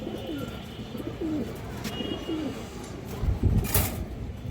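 Pigeons, including silver hens, coo in a repeated, rhythmic series close by amid a pigeon-selling setting, with a brief burst of louder rustling noise near the end.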